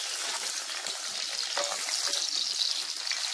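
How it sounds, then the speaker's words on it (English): Onions sizzling in hot oil as a stew is started, a steady, fairly faint crackle and hiss heard close by without speech. "So at the moment, my oil is okay for me to add my onions. So if you hear the sizzle,"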